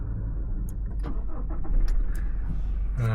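A Toyota Innova Reborn 2.4 diesel with automatic transmission starts up: a brief starter whirr, then the engine catches and settles into a loud, close, steady idle, with a light jangle of keys.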